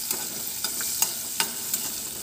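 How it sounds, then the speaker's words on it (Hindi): Onions frying in hot oil for a mixed arhar and urad dal, a steady sizzle with occasional sharp crackles and stirring scrapes, close up and without voices. "अब हम इसमें प्याज डाल देंगे।"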